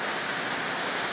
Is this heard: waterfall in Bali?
yes